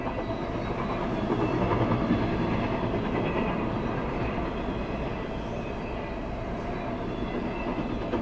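A Norfolk Southern freight train led by a pair of SD40-2 diesel locomotives rolls past at close range, a steady loud rumble of engines and wagons with faint clickety-clack, with no voices.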